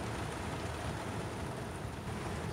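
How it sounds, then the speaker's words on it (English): Heavy rain pours down in Towner, North Dakota, a dense, steady hiss that stays loud and unbroken throughout with no voices. "I'd say it's raining pretty hard."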